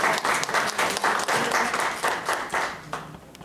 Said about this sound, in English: Kathy another round of applause